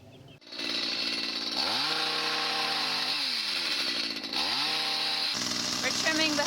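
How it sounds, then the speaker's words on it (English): A power tool trims hedges back for winter in a friary garden, a loud buzzing motor that revs up and down in bursts, with people speaking now and then. "We're trimming the hedges back for winter"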